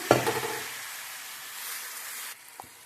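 Chana dal and gongura greens drop into hot tempering oil, giving a sharp burst of sizzling and a clatter of stirring that settles into a soft, steady fry, with a brief knock near the end.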